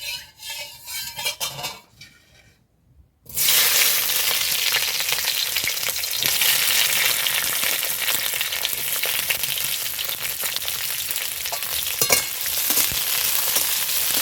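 Green chillies frying in hot oil for chicken dopiyaza, a loud steady sizzle rising abruptly after a brief near-silence and holding for the rest, with faint clinks of a utensil against the pan.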